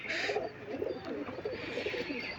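Giribaz pigeon cooing close by in a soft, continuous low murmur, with a brief higher chirp at the start and steady background noise throughout.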